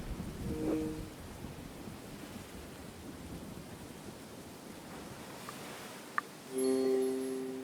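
Rain falls in a low, steady hiss with a soft rumble of distant thunder, fairly quiet, with a few brief sharp tones and a short louder burst near the end.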